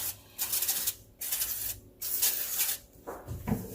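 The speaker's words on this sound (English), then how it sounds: "let's spray them down a little bit more" Several bursts of hissing cooking-oil spray onto coconut shrimp in an air fryer, each lasting under a second, separated by short pauses, close up with a soft clatter near the end.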